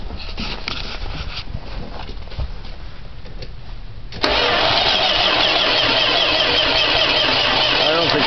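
An old Maxi van engine with a weak battery cranks slowly, a steady loud labouring whir that begins midway and runs to the end, preceded by quieter background noise and some talk.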